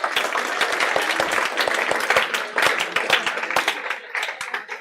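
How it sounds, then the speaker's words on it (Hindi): Students in a lecture hall break into applause: a dense, steady patter of many hands clapping close by for several seconds before it thins out toward the end. "क्या आप इस छोरी के लिए ताली बजा सकते हो?"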